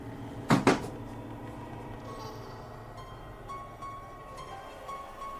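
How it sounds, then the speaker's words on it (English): A sharp double bang of a door shutting near the start, then a quiet room with faint background hum. "unsettling sounds, like a ghost slamming a door"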